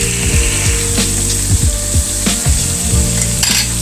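White and red mustard paste with spices frying for shorshe ilish, a loud close sizzle broken by repeated scraping strokes of a spatula against the pan; no voices.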